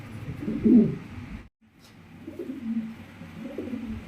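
A Russian angel pigeon being handled coos in soft, low, throaty bursts, close to the ear, broken by a brief silent pause.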